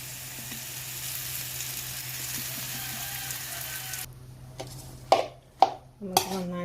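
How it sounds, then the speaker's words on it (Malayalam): Dried tapioca and chickpeas are stirred into mustard seeds and onions frying in coconut oil, with a steady low sizzle first, then a few sharp scrapes and clanks of a spoon against the pan. "ഇനി നമുക്ക് അതിനകത്തേക്ക് നമ്മുടെ കപ്പയും കടലയും കൂടി ഇട്ട് കൊടുത്ത് നമുക്ക് നന്നായിട്ട് ഇളക്കിയെടുക്കാം"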